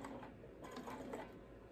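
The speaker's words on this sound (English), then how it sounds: "I'm going to stitch down to this pin, which is 1/4 inch up from the bottom of the quilt" A sewing machine stitches quilt binding with a quiet, rapid mechanical whir and soft rhythmic ticking, steady and close for a short burst with no talking.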